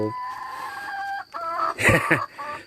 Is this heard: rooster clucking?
yes